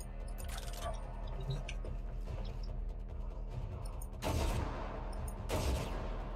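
Weapon fire in the video game Warframe, with dense, continuous bursts of shots and two louder volleys near the end, all against busy game sounds.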